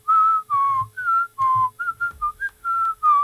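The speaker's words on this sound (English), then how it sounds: "whistle a tune" A person whistles a tune alone, clear close pure tones in a run of short held notes with brief gaps between them, each note sliding slightly in pitch.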